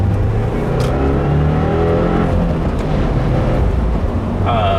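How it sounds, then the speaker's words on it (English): A 2015 Subaru WRX with a Maperformance stage 1 tune pulling hard at full throttle in second gear, a loud, steady engine roar with rising revs throughout, heard close from inside the car. "Second gear pull, full throttle."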